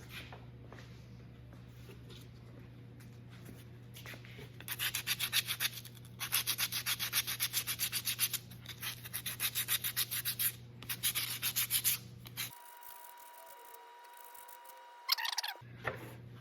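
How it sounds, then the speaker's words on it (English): Sandpaper rubs a small wooden toy wheel for a shoe box derby car in close, rhythmic bursts of quick back-and-forth strokes, with pauses between the sanding passes. "I'm just gonna take a little piece of sandpaper and just sand that off so it's nice and smooth"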